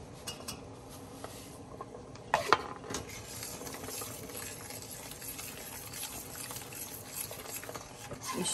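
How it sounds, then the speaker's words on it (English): Sugar and pectin being stirred into boiling plum jelly, a low bubbling rumble with scraping stirs and a brief louder clatter of a utensil against the pot near the middle. "I'm going to add my sugar and pectin in and stir."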